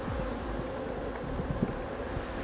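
Honey bees swarm and buzz around an opened hive during organic honey production in Fujairah, a dense steady drone with overlapping wingbeat whines coming close and drifting off, constant and fairly quiet, no voices.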